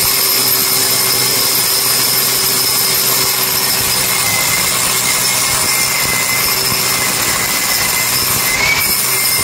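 A power drill boring through a wall for split-type aircon pipes, a steady loud grinding whine with sustained high tonal bands running the whole time.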